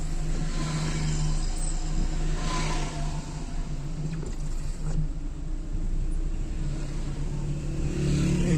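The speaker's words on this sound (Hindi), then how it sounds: "ये देख लें, उधर गाड़ियां आ भी रही हैं और बहुत ही धीमी धीमी रफ्तार से" Cars rolling slowly along a road near Daman-e-Koh in Islamabad, a continuous low engine rumble and tyre noise with passing swells, nearby and moderately loud.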